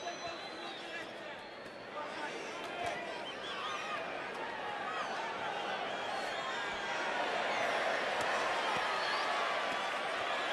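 A boxing arena crowd cheers for Cuban boxer Yosbany Veitia during a 46-49kg bout against Dawid Sebastian Jagodzinski, a steady, dense roar of voices that swells slightly toward the end beneath a commentator's talk.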